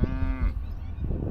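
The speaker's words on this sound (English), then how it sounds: "there's 3 other cows that are looking really close" A cow on a cattle farm gives a loud, close moo that starts with a falling pitch and then fades into rough, breathy lowing.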